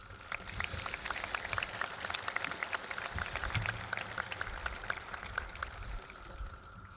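Audience applause at a high school commencement, a steady patter of clapping from a large crowd heard at a distance, fairly faint.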